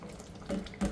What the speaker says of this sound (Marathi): 1 ग्लासभर पाणी टाकते।